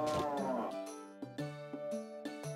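Cartoonish cow moos from the farming game Harvest Moon: Tale of Two Towns, several short lowing calls in a row over game music, clear and close.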